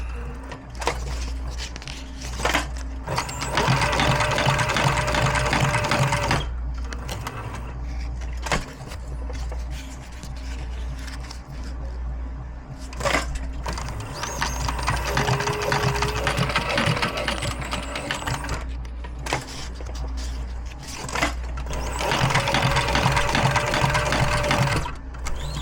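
A Cobra Class 4 industrial sewing machine stitches ammo loops with bonded nylon thread, running in several loud, close bursts of rapid mechanical clatter with brief pauses between runs and a steady low motor hum underneath.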